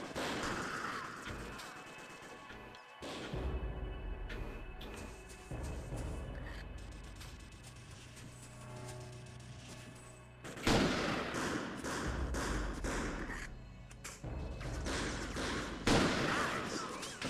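Gunfire in the video game Second Sight, repeated shots and bursts crackling over roughly seventeen seconds with brief lulls, loud heavy volleys punctuating a steady firefight.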